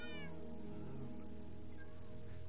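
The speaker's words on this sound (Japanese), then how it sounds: "全種類の猫" Cats meow in the Minecraft video game, with one clear rising call at the start and softer mews afterward over a dense, steady game background.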